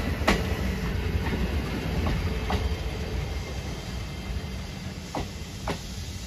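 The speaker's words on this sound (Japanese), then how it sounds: "サンライズエクスプレス瀬戸号です" The Sunrise Express Seto sleeper train runs along the rails with a steady rumbling roar and a few sharp rhythmic clicks and clacks from the wheels, sounding near and continuous.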